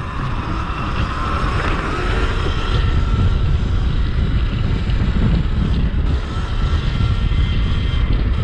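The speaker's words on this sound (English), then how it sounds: "The wind's fighting me," Loud, constant wind buffeting on the microphone while riding a Sur-Ron 72V electric dirt bike, a steady roar through the whole stretch with small dips in force.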